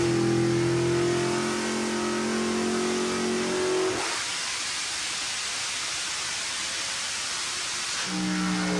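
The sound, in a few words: engine revving during a dyno pull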